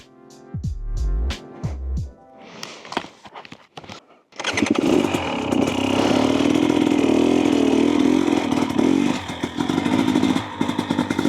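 A 2024 Husqvarna TE250 dirt bike rides a trail, starting with scattered clunks and rattles, then settling into a loud, continuous close engine drone with rough revving and clatter from the terrain.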